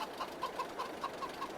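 Chickens cluck softly in the Farming Simulator 22 video game, short regular clucks repeating over a steady hiss of background noise.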